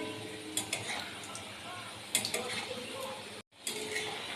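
Khasta modon bhaja dough pieces fry gently over low heat in oil, giving a soft continuous sizzle with a few light clinks and taps of a utensil, then a brief cut to silence.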